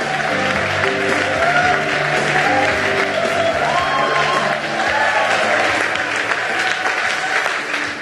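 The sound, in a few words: audience applause welcoming a guest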